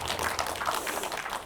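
Audience applause after the screening of the documentary film 'Suraa': a short, fairly dense burst of clapping from a crowd in a hall, with no talk over it.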